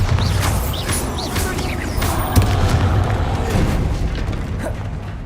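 Bombarda spell blasts in the video game Hogwarts Legacy, heavy booming explosions with crashing debris layered over steady battle noise and rumbling, loud and close throughout.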